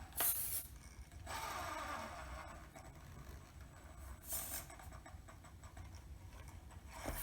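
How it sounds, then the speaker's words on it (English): Brushless-motor SCX24 RC crawler inching over slick plastic, a steady low mechanical whir with faint gear ratcheting that swells briefly at a couple of points, continuous and fairly quiet. "Love this brushless system and the surpass motor."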